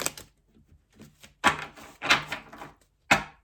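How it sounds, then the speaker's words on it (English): Slippery cards of The Enchanted Map Oracle Deck are shuffled by hand close up, giving a few short crisp riffling bursts separated by soft pauses and light handling taps, with no voices. "they do that kind of shuffle very nicely"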